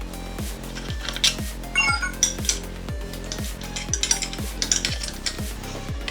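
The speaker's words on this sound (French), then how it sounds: "Démontez les 3 vis de fixation du carter de pompe à eau" A ratchet wrench loosens the screws on a scooter's water pump housing, giving a steady run of close, rapid pawl clicks in repeated strokes with some light metallic clatter.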